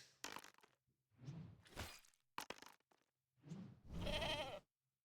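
Goat bleats from the fantasy board video game Talisman, several wavering nasal bleats in a short sequence with brief pauses between them, clear and alone.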